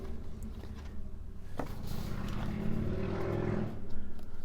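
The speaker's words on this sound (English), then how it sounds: "what a noise. It's obviously motorbike day today" A motorbike passes outside, a steady low engine drone swelling and fading from a distance behind indoor room noise, with a brief knock partway through.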